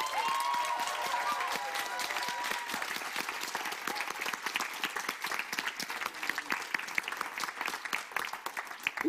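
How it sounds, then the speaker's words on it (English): An evening audience at a hybrid film premiere applauds the film's stars, steady clapping filling the room for about nine seconds at moderate loudness, some hands sharper and closer than the rest. "I want a final applause for the stars of the show."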